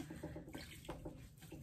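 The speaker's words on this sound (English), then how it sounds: "And then here I can wash my tools." Water runs from a tap as clay tools are washed at home, a faint steady splashing with small rhythmic knocks and no talk.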